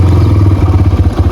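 A motorcycle engine runs close by after being started, a loud, steady low throb with rapid rhythmic pulses and a light mechanical clatter.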